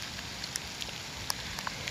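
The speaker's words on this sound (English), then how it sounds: "We got sleet. You see it bouncing off of him?" Sleet pellets falling on a cold mountain trail at about 3,500 feet in Shenandoah National Park, heard as sparse, faint ticks and taps scattered over a soft hiss, with no talk.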